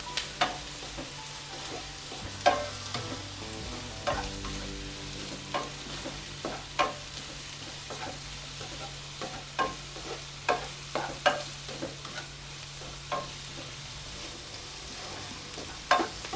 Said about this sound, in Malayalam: ഒരു 3 തണ്ട് വേപ്പില, കറിവേപ്പിലയില്ലേ അത് ഇട്ട് കൊടുക്കുന്നു